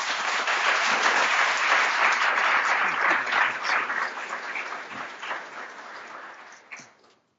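Audience applause welcoming a dean at a professorship installation ceremony, steady dense clapping from a room full of people that fades out over several seconds.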